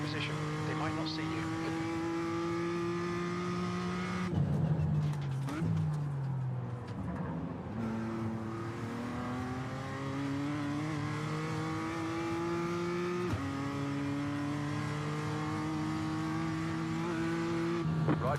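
Race car engines roar around the Bathurst track in an iRacing PCC endurance race, a loud droning whine that rises and falls through gear changes as cars close in and pass, with voices speaking over it.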